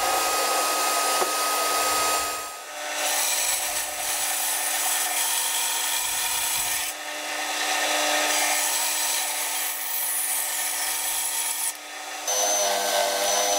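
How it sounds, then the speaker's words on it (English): A bobbin sander works wood for a guitar build, giving a steady whirring, rasping hiss that is broken by several short pauses as the piece is lifted and pressed back against the drum. "This is my bobbin sander,"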